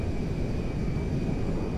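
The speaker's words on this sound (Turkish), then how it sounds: "Cargo jet is now part of the TP Enterprise fleet." Steady, loud engine roar of a cargo jet flying in GTA V, a continuous broadband drone with a faint high whine and no speech.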